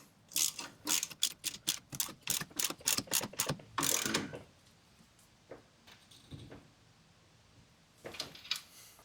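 Tightening a lock nut with a ratchet on the sleeve hitch of a John Deere 300 garden tractor: a quick run of close, crisp clicking strokes, then a pause and a few scattered metallic clicks, with no talking.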